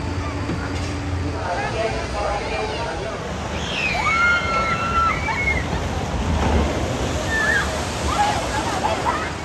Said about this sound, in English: Just got a nice Log Flume night ride